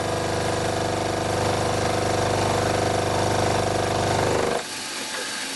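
A mini lathe takes a facing cut on the left-hand face of a metal part, a steady loud machine drone with a rough chattering cut that stops abruptly near the end, leaving a quieter hum.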